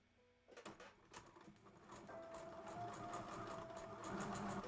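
A sewing machine runs steadily while stitching a child's dress, starting after a few clicks and sharp handling taps. Its even mechanical hum stays moderately loud and continues to the end.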